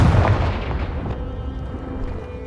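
A Confringo explosive spell blasts in Hogwarts Legacy, a loud booming burst up front that rolls off into a lingering rumble.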